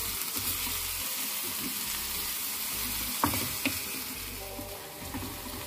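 Chopped onions sizzle and fry in a pan while being stirred, a close, continuous crackling hiss broken by soft scraping strokes of the spoon at intervals, with no talking.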